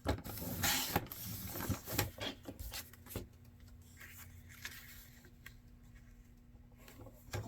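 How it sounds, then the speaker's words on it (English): A paper trimmer cuts 4-inch squares from paper, giving several sharp, crisp slicing and clacking sounds close by in the first few seconds, then lighter, quieter mechanical rustles. "all I am doing is cutting some 4-inch squares"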